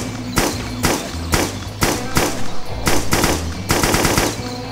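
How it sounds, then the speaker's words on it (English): AK-47 rifle in the Doom mod VietDoom fires loud, sharp shots in short bursts, roughly a dozen cracks in under five seconds over a low game soundtrack. "Uh, ooh, AK-47. Now that's something I actually like. Fire the..."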